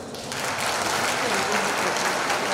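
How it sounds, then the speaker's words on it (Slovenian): A large audience at a Slovenian welcome-home event breaks into steady, loud applause, a dense wash of clapping that swells quickly and holds without pause. "normalen aplauz"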